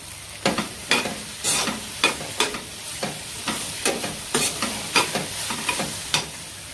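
Tomatoes cooking in released oil for a spicy dry stir-fry of cowpea pods, with close, crisp scraping stirs landing roughly every half second over a steady low sizzle.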